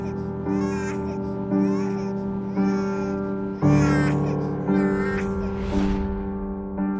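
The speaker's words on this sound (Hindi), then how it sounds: "एक नौजायगा बच्चे के रोने की आवाज आई" A newborn baby cries in a battered, run-down house in a barren village: repeated wailing cries over a sustained droning musical backdrop, loud and near.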